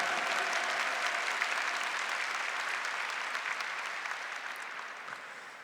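A church congregation applauds in a sustained, dense burst of many hands clapping that slowly tapers off, heard from a moderate distance with no speech over it.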